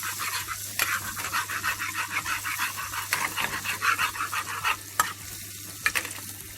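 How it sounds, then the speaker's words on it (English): Butter melts and sizzles in a pan while being stirred, a close, steady frying hiss broken by irregular scraping strokes and a few sharp clicks, with no talking. "melting out my butter"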